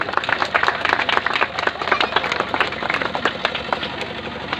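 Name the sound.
audience applause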